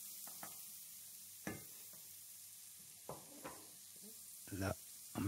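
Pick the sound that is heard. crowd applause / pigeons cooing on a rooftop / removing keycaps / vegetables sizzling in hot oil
vegetables sizzling in hot oil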